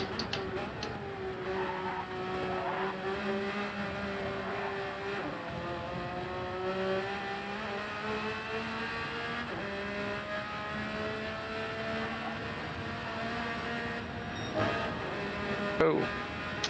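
A race car engine in Gran Turismo 7 holds steady tones that rise and fall through gear changes, with continuous moderate engine drone and a brief louder burst near the end, while people talk over it.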